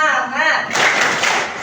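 A group performs the tepuk semangat clap chant, bursting into dense, loud clapping after a brief moment of voices.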